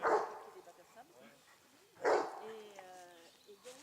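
Several dogs bark in short sharp bursts at close range, with yips and whimpering whines between the barks, outdoors.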